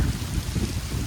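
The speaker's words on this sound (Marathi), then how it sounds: "डेंजर पाऊस आलाय." Heavy rain pours down during a village storm, a dense, steady hiss and low rumble with no pauses over a brief moment.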